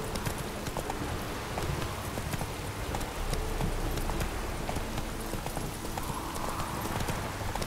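Horse hooves gallop steadily in The Witcher 3, a dense, continuous clip-clop of rapid footfalls close by, with no talk over them.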